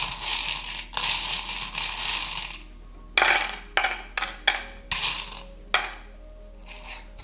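Small metal charms rattle and clink as they are shaken, then drop in a series of sharp separate metallic clatters for a divination reading, loud and close with quiet gaps between the throws.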